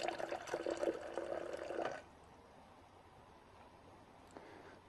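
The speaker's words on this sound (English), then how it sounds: "Pour some water into the bottom." Water poured into a bowl for pre-soaking filters, a close splashing stream for about two seconds, then quiet.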